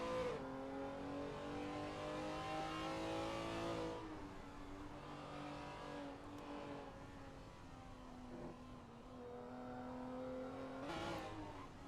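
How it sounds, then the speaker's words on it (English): A BMW touring race car in a sim racing game at Oschersleben circuit runs with a steady, loud engine drone, its pitch rising through the gears and dropping on shifts, with no talk over it. "We'll gift you with all the noise of this BMW."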